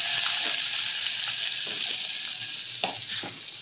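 A pizza base fries in a pan with a steady, loud sizzle and a few soft clicks from the pan, continuous throughout with no voices.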